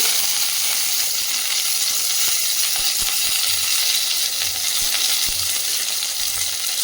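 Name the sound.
mustard seeds and curry leaves sizzling in hot oil in a pan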